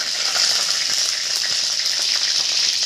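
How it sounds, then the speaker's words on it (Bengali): Black cumin seeds and green chilies sizzle in hot oil in a kadai, a loud, steady, close crackling hiss with small pops throughout and no voices. "কড়াতে তেল দিয়ে দিয়েছি, তেল গরম হয়ে গেছে। কালো জিরে দিয়ে দিলাম, কাঁচা লঙ্কা দিয়ে দিলাম"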